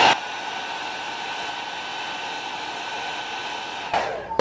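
A heat gun or heater blows a steady, loud whooshing hiss while warming plastic trim panel fasteners on a car body, starting abruptly and cutting off near the end.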